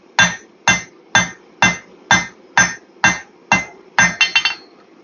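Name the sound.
hammering the corners of hot steel while forging shears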